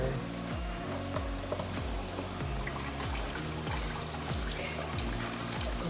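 Water pours steadily down a small indoor paludarium waterfall, a continuous close trickle and splash with a rhythmic gurgle repeating about once a second, no voices.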